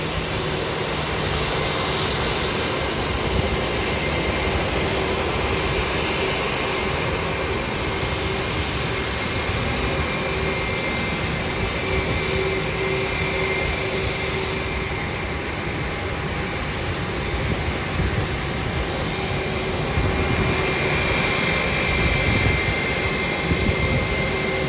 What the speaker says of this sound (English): American Airlines 737-800 coming in from Dallas now taxiing to the gate